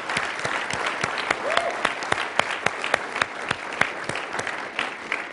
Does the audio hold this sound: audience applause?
yes